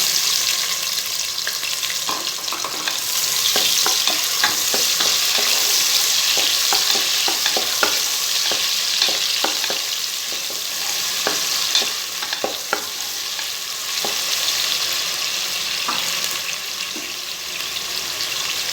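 Two sliced large onions sizzle and fry steadily in a hot pan, with scattered scraping and stirring clicks throughout; no voices.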